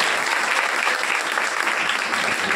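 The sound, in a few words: audience clapping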